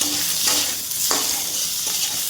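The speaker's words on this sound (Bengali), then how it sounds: "আদাটা দিয়ে আদাটাও একটু নাড়াচাড়া দেবো।" Ginger being stirred into frying potatoes in a pan, with a steady sizzle and a few distinct scraping strokes of the spoon, close and alone.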